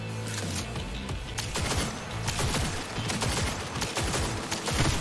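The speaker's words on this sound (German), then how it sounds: "Ich schieße gerade ins Nirgendwo, glaube ich, ne?" Rapid bursts of gunfire from Cyberpunk 2077 crack in dense, overlapping volleys, loud and close, with shots piling on one another throughout.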